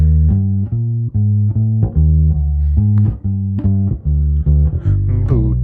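Jazz bass plays the last four bars of a tune as an intro, a steady walking run of deep plucked notes in even rhythm, close and alone with no voice.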